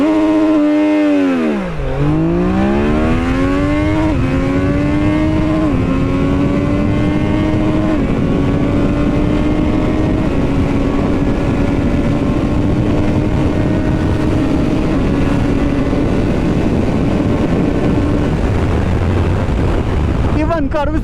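A Triumph Daytona 660 motorcycle launches hard, its engine dropping then climbing steadily through successive gear changes, loud and close with heavy wind noise over the sustained rising whine.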